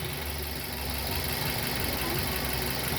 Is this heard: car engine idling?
yes